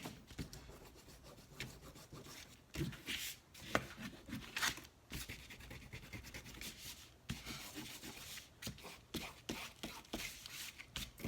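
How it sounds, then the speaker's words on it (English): Inca Gold metallic wax rubbed by hand across a napkin collage surface, a steady close scratchy rubbing with uneven strokes and brief louder swipes, with no talking. "I'm going to go through and rub it up a little bit more."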